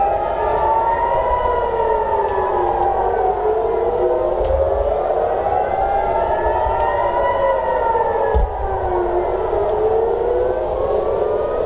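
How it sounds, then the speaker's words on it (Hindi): Air raid warning siren sounding over Israeli cities, a loud wailing tone rising and falling in long slow sweeps, continuous with faint background rumble. "इजराइल के प्रमुख शहरों में सायरन की आवाज सुनाई दी है, वो सुनाएंगे हम आपको।"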